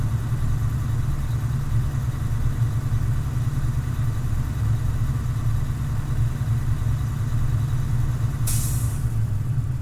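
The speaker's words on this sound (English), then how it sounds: "That sound you just heard is a governor cutout." A Class A truck idles with a steady low engine rumble while its air brake governor cuts out at 120 psi, letting out a short, sharp burst of hissing air near the end.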